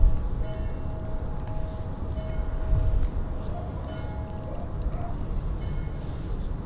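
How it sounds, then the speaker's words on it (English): Church bells ringing in the distance from a rooftop in Athens, faint tolls under a broad low outdoor rumble, with no talking. "Nice church bells off in the distance"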